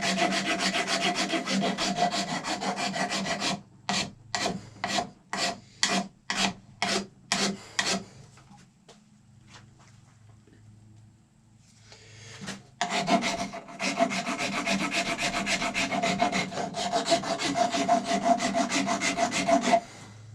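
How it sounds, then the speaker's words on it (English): Rasp filing a cow horn while shaping a powder horn: loud close scraping strokes, first continuous, then a rapid run of separate rhythmic passes, a quiet gap, and steady rasping again. "So I'm going to take my rasp side."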